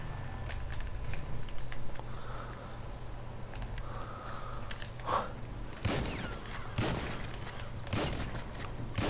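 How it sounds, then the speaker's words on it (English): Gunfire rings out in the video game GTA 5, a scattered run of sharp cracks and bursts getting louder toward the end, over steady engine hum and clicking, with no talk. "Your gunshots?"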